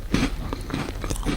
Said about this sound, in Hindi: अब मैं अपने जबड़ों को चबाते हुए सुनना